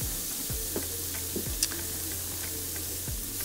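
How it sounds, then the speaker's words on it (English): Root vegetables and beets sizzle steadily in a pan while being stirred, with a few soft scraping strokes and light clicks from the utensil over a constant frying hiss, close up and with no talking. "So we're gonna stir in all those flavors."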